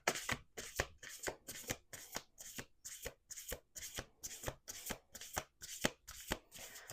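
Oracle cards are shuffled by hand in quick, rhythmic riffling bursts, about a dozen crisp flutters in a row, close and soft with no talking.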